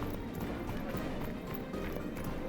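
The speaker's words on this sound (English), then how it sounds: "I'm going to go ahead and steal a horse." Horse hooves clip-clopping in the video game Bannerlord, a quick continuous patter of running steps under a dense, busy game soundscape, fairly quiet and without talk.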